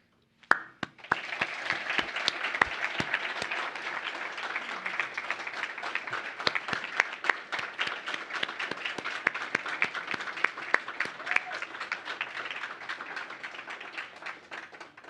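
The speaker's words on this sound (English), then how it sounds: "please join me all in applauding these outstanding young leaders" Sustained audience applause for outstanding young leaders at a finals event, a dense even wash of many hands clapping that carries on steadily for the full stretch at moderate loudness, with no voices over it.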